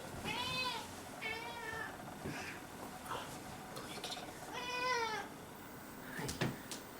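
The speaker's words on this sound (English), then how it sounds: "That's my lovely cat, Dusty." Dusty, a 19-year-old cat, meows several times indoors, with three clear drawn-out meows and some softer ones between them. Quiet room noise and a faint clink sit in the background.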